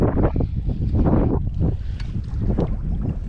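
Strong wind buffeting the microphone on a lake during a morning of canoe fishing for pike, a loud low rumbling roar with gusty surges and light water splashing, no talking.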